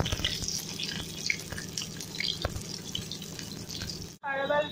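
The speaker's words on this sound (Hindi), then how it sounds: "अब परवल को फ्राई करेंगे।" Pointed gourd (parwal) frying in hot oil for an aloo-parwal curry, giving a steady dense crackle and sizzle for several seconds, cut off by a brief gap before a voice speaks at the end.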